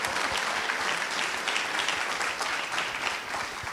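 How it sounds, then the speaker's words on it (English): A crowd at a university computing club open house applauds the interim dean, steady dense clapping sustained throughout, fairly close and even in level. "Fred Martin, big round of applause."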